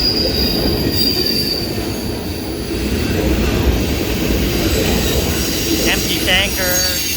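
A CSX freight train rolls past up close with an auto parts boxcar, a loud steady rumble of wheels on rail with squealing flanges and a few clanks, continuous throughout.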